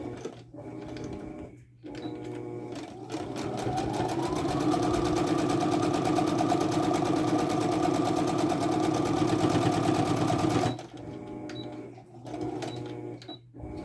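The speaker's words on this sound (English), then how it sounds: "And we're going to sew one side closed." Sewing machine stitching one side of a snap bag closed, starting with short bursts and then running in a long, steady, loud mechanical whir for several seconds before stopping and a few brief stitches.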